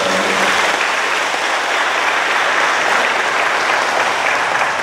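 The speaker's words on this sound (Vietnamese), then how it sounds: "Xin cộng đoàn cho một tràng pháo tay." Congregation at a church wedding ceremony breaking into sustained applause, a dense even wash of many hands clapping, loud and continuous from start to finish.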